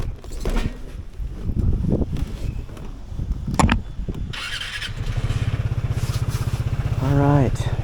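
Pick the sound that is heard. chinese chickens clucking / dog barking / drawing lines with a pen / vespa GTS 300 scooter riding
vespa GTS 300 scooter riding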